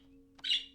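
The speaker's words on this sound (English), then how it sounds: "Look who's here, little bird Blue." A pet bird giving a single short, bright chirp, close and clear over a faint steady hum.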